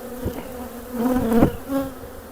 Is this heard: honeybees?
yes